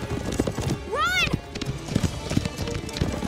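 Horses galloping in an animated Western-style chase, rapid clip-clop hoofbeats with a loud whinny, mixed with shouting voices.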